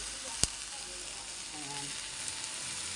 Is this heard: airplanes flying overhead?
no